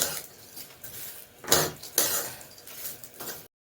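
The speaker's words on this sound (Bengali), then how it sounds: "এর জন্য আমি মুগ ডালকে ভেজে নিচ্ছি কড়াইতে দিয়ে।" Mung dal being dry-roasted in a kadai (wok), with a few distinct metallic scrapes and clinks of a spatula against the pan over a light rustle of dry lentils, close and alone.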